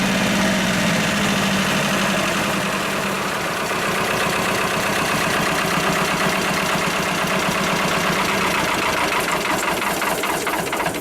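A Lister ST2 diesel engine in a Winget Four/40E dumper runs steadily, its dense rhythmic knocking building slightly as it revs, loud and close throughout with no talking.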